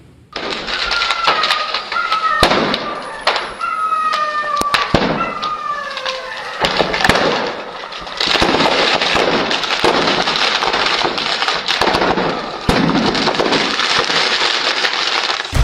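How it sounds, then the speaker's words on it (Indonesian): Celebratory gunshots fired into the air ring out as sharp cracking bangs, repeatedly and irregularly, some in quick bursts, amid crowd noise and whistling, echoing outdoors. "Sebagai perayaan gencatan senjata, tembakan dilepaskan ke udara"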